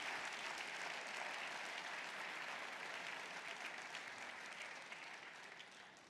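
Steady, dense applause from a large audience at an entrepreneur-of-the-year award ceremony at the Olympia, loud and continuous and easing slightly toward the end.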